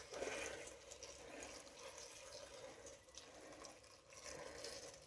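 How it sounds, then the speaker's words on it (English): A steady stream of boiling water pouring and splashing into a container, quiet and continuous with slight gurgling variations. "pouring some boiling water over these"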